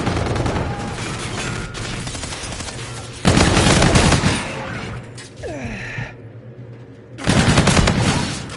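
Loud bursts of automatic gunfire in a Call of Duty-style hardpoint match, with sustained fusillades at the start and end separated by a quieter stretch of scattered shots and game effects.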